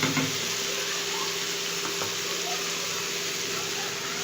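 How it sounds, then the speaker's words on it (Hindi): Egg masala curry gravy fries in a pan, a steady loud sizzle and crackle running throughout, close and unbroken, with faint stirring scrapes near the start. "मज़ीद हम इसको भून लेंगे।"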